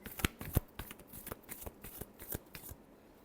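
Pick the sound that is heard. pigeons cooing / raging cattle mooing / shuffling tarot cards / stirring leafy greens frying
shuffling tarot cards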